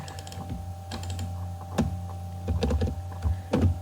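Keys clatter in irregular bursts as a username is entered into a web form during a coding lesson, moderately loud over a steady low electrical hum, with no talking.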